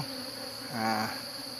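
Cavity-nesting honey bees buzz around a hive box, a steady close insect hum that swells briefly as a bee passes near and then fades back into the drone.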